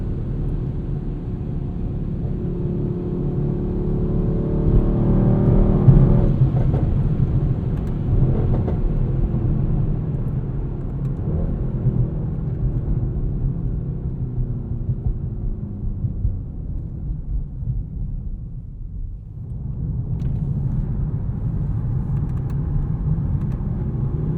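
A 2020 Mercedes-AMG GT 63 S drives along, its engine and road rumble steady and close from inside the cabin, rising and falling gently, with a dip and a fresh surge near the end.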